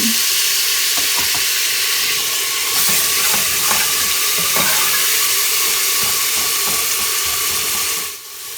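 A chopped medium tomato frying in a pan gives a loud steady hiss and sizzle with light stirring clicks throughout, fading slightly at the very end.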